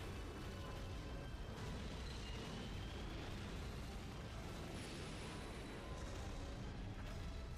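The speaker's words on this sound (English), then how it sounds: "Give me fire breath." Godzilla unleashes its fire breath in the Godzilla PS4 video game, a continuous loud roaring, rushing blast that fills the whole stretch with dense, steady noise and no pauses.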